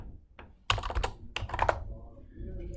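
Quick bursts of typing on a computer keyboard while a value is entered into livestock weigh scale software, several clustered keystrokes close up with a quiet pause between groups.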